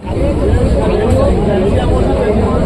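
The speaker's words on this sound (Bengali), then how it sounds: "মোটামুটি মারাত্মক ভিড় মারাত্মক ভিড়" Large crowd just outside Joynagar railway station, a dense continuous hubbub of many voices chattering close by without pause.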